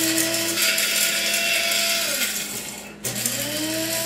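An electric coffee grinder grinds coffee beans toward a medium grind, a loud, continuous whirring motor with a steady high-pitched whine that dips briefly near the end and then resumes.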